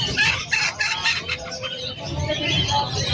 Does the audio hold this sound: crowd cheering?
no